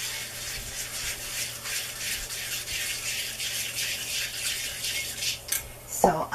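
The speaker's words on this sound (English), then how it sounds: "And I'll just stir it some more" A spoon stirs a baking soda paste mixture in a bowl with a continuous close, gritty scraping and rattling, ending with a few louder clinks.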